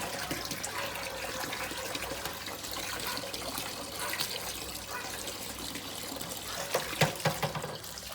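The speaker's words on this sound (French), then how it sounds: "il y a l'eau qui coule, ici" Water trickles and runs steadily from an aquarium siphon during a Malawi cichlid tank water change, a continuous soft wash of flow with a few brief splashes near the end, no talking.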